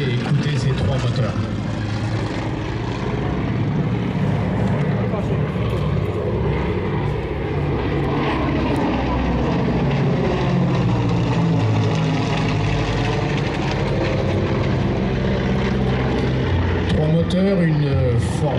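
A three-engine propeller aircraft takes off slowly at an air show, its droning engines rising and shifting in pitch as it passes, with a commentator talking over it.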